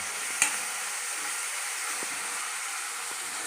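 Cabbage fry being stirred in a pan over a steady sizzling hiss, with one sharp utensil tap near the start and a few soft scrapes later.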